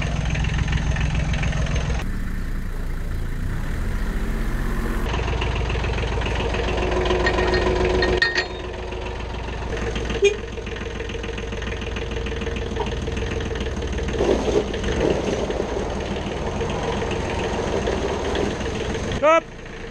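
A Renault Master van engine idles with a steady mid-pitched rumble and knocking while the van is manoeuvred, with a few knocks and bumps along the way and people talking throughout.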